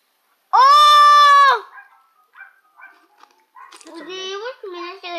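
A sheep lets out one long, loud, strained bleat, then quieter animal calls and another run of wavering bleats follow close by.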